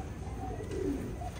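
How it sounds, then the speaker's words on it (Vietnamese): Thai superior meat pigeons, breeding pairs in a loft, give soft low coos at a moderate distance amid a faint room hum, with no talking. "đây là những cặp bố mẹ chim bồ câu ti thân thái siêu thịt"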